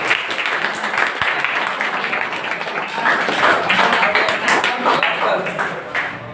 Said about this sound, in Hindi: ताली मार लीजिए।